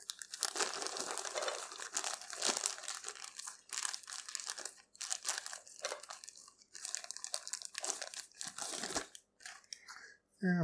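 A plastic bag crinkles and rustles steadily while dandelions are stuffed inside, the close, crackling handling sounds coming in irregular bursts with brief pauses between.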